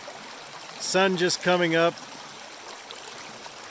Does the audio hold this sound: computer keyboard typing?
no